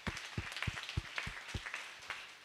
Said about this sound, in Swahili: Tupigie Mungu makofi mazuri sana